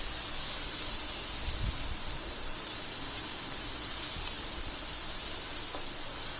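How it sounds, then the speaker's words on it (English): Tomatoes and onions stirred on a hot tava over high heat, a steady loud sizzling hiss throughout with a few faint low knocks of the spoon, no talking. "So we are going to give it a stir."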